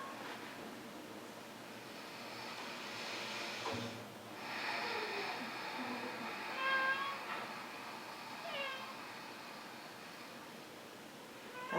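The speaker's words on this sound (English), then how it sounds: "That's my cat who wants to come in." Cat meowing to be let in during an indoor mat yoga session, a few short plaintive meows spread across a quiet room with soft background noise.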